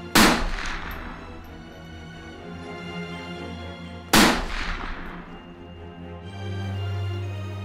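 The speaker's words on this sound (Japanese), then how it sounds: "突如続けて鳴り響いた2つの銃声" Two loud gunshots ring out several seconds apart, each a sharp blast followed by a long echoing decay.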